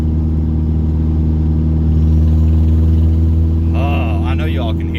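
A turbocharged Mazda 3 with an exhaust leak drives along, its engine a loud, steady mid-pitched drone with a rough, pulsing edge throughout, and a brief higher-pitched sound rises near the end.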